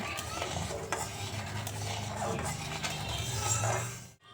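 Sugar syrup boiling and being stirred in a pot for making crisp khaja sweets; a steady bubbling hiss with scraping stir sounds throughout, close, ending abruptly.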